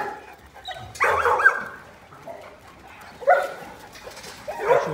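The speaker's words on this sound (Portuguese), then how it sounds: "Cachorrada tudo agitada" Several agitated dogs bark in short, loud bursts spaced a couple of seconds apart, with some faint yelps between the bursts.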